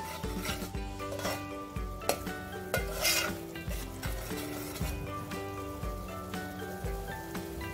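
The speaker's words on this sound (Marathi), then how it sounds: "होतंय हे फ्राय." Crabs frying in a pan with a steady sizzle, stirred so that repeated clinks and scrapes of metal on the pan come through at an even pace, with music playing underneath.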